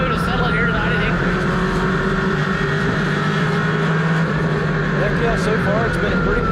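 Race cars roar around Hickory Motor Speedway in a steady, loud engine drone at night, with a commentator talking over the continuous racing noise.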